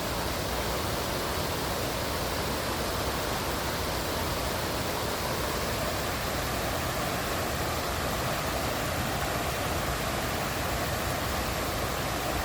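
A waterfall near the TVA Bridge rushes in a constant, loud broadband hiss, an even wash of falling water with no pauses or voices across the whole stretch.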